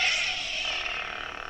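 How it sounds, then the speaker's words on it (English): A Qui-Gon Jinn Legacy lightsaber hums with a steady, bright, airy drone, and a faint repeating ripple near the end reveals the looped sound file. "you can hear the audio loop. That is terrible. I don't like the audio loop sound."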